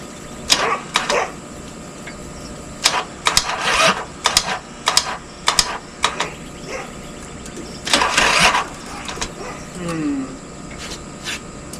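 A cheap motorcycle's starter cranks in repeated short bursts without the engine catching, with mechanical whirring and clicking between attempts, heard close up and alone.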